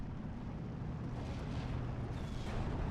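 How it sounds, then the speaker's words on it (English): An artillery barrage in the Steel Division 2 war game rumbles as a dense, continuous roar of distant explosions, with a heavy low boom rolling steadily throughout. "As will now be evidenced by this entire barrage."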